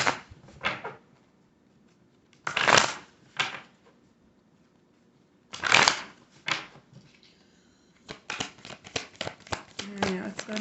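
A Soul Connections When Two Hearts Meet Love Oracle card deck is shuffled in several close, crisp riffling bursts separated by quiet pauses, ending in a quicker run of snapping card flicks.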